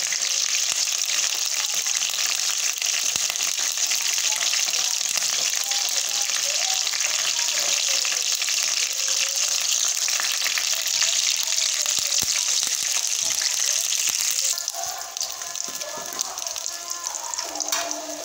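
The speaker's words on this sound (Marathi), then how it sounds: "हे तुम्ही अशा पद्धतीत वांग तळून घ्या। वांग तळून सुकं वांग तयार करा" Eggplant slices fry in hot oil in a pan, a loud continuous sizzle that dominates throughout, easing slightly near the end as the pieces are disturbed.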